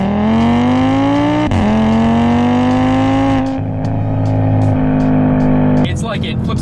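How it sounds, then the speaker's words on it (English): A 600-horsepower Audi RS3 five-cylinder turbo exhaust pulls hard through the gears, rising in pitch with a brief break at each shift, loud and close, with people talking over it. "the exhaust sounds sick"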